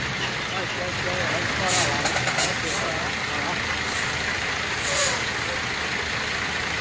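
A heavy truck idles and rumbles close by while being maneuvered against another truck. Two short air-brake hisses cut through the engine noise, and people talk over it throughout.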